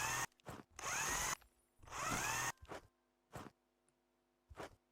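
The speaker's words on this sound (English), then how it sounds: "Just said we can use the nail gun. Does actually do it quite fast." Rapid power-tool bursts from a nail gun fastening timber framing in the video game House Builder, two long loud runs and several shorter shots spaced apart, close and dry with no talk.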